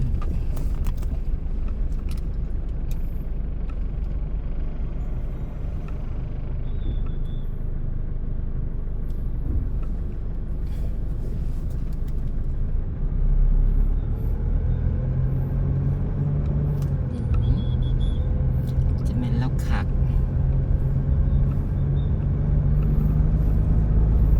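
A car is driven through town in Bueng Kan, Thailand, with a steady low engine and road rumble throughout, a few creaks and clicks inside the cabin, and a slight rise in engine note toward the end.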